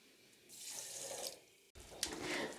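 Water pours into a pot of sugar for a sweet rice dish in two short splashing bursts, close and fairly soft, with a brief pause between them and no voices.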